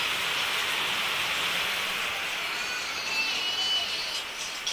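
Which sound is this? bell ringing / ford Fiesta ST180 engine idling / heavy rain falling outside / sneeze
heavy rain falling outside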